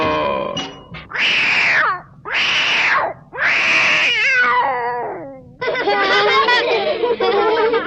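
A kitten meows repeatedly in loud, drawn-out cries, close by, with short pauses between calls and a longer wavering mew at the end.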